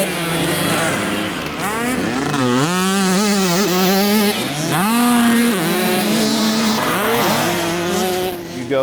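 A dirt bike engine revs hard and climbs through the gears, pitch rising and dropping with each shift across several loud, close acceleration runs.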